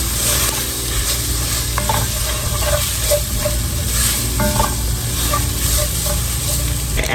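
Southern gumbo greens with a little honey are stirred in a pot over steady, loud sizzling, with a continuous hiss and occasional scraping from the spoon and no voices.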